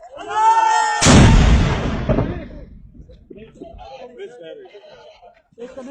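An army rifle fires a single loud, close shot during firing practice, cracking sharply and rolling away in a long echo, with voices talking before it and again as the echo fades.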